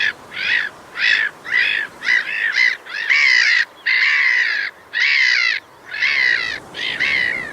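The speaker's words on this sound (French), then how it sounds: "Les mouettes rièrent doucement." Seagulls call out in a series of harsh, laughing cries, repeated bursts spaced about a second apart, loud and close by the sea with no talking.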